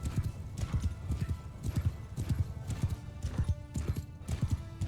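Horses galloping into battle in Mount & Blade II: Bannerlord, a steady stream of hoofbeats pounding in quick overlapping clip-clop rhythm, close and fairly loud, with the thud of many riders blending under faint battle ambience.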